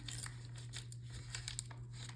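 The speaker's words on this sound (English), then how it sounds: "So we're gonna tear off that little top square right along the side there." A paper bag has its top square torn off along the side for a layered craft tag, giving short crinkling, ripping bursts over a steady low electrical hum.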